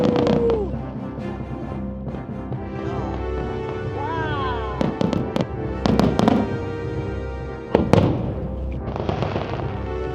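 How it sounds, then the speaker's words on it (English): Fireworks burst over the sea at a world cruise finale, a string of sharp bangs and crackles, some loud and close, with background music and voices running underneath throughout. "The fireworks light up the dramatic sky"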